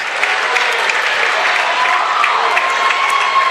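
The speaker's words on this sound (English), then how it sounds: "they are getting a nice round of applause from their fans" Fans at a high school basketball game between Holy Cross and Crosby applaud loudly and continuously in a gym, a dense wash of clapping with crowd murmur beneath.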